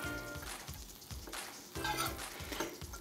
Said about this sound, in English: So we wanna melt that butter.